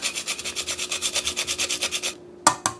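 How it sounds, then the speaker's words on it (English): Whole nutmeg rasped over a grater into keto pumpkin spice cookie batter, a quick run of about fifteen even scraping strokes, then a pause and two final strokes, close and crisp. "I'm just going to grate it in there."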